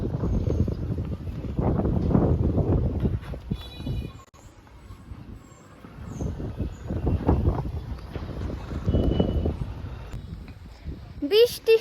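Strong wind gusts across a house rooftop where a flag has been put up, coming in loud, rumbling bursts that rise and fall, with people talking over it.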